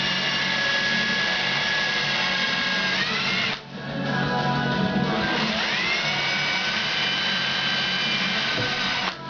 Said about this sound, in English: you can do all your lug holes with the pilot drill at once